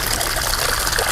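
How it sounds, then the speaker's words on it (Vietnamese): Running tap water for washing vegetables, likely salad greens and herbs, in a home kitchen: a steady, close trickling and splashing stream fills the whole short stretch with no talk over it. "xả nước ra rửa rau cả nhà"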